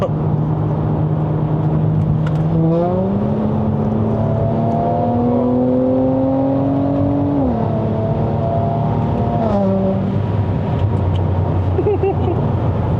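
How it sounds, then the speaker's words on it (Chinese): A W205 Mercedes-AMG C43 4Matic drives on a Malaysian road, its engine and exhaust droning and rising in pitch through the revs, dropping briefly at a shift, then climbing again, loud and steady throughout. "这辆车我很喜欢它的声浪，真的"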